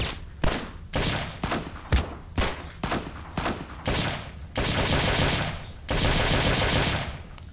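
Desert Eagle pistol shots in GTA San Andreas, a rapid run of sharp, loud cracks spaced under half a second apart, followed by longer sustained bursts of dense firing near the end.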